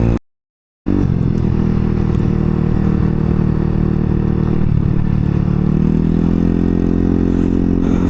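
A Honda Ruckus scooter's small engine droning steadily while being ridden, a close, loud buzzing hum that rises slightly in pitch toward the end as it picks up speed, after a brief dropout at the start.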